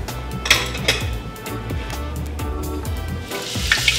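A pot is handled on a kitchen stove before butter goes in, giving a few sharp metallic clinks and knocks over a low background hum, with no one speaking.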